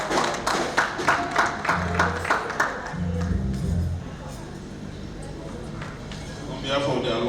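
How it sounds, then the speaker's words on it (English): Applause at an alumni association award ceremony: rhythmic claps ring out early, then a crowd murmurs and voices speak over thinner clapping that picks up again at the end. "A round of applause for the registrar."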